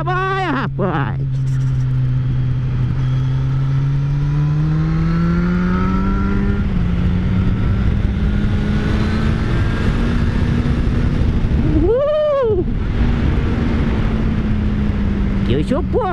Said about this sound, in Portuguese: Que o motor trabalha, rapaz!